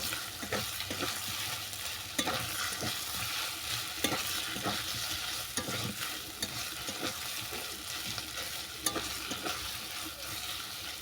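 Green chilli paste being stirred into chicken and kohlrabi curry in a pan, a steady frying sizzle with repeated rhythmic scraping strokes of the spatula, fairly close.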